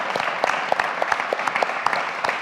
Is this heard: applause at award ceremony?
yes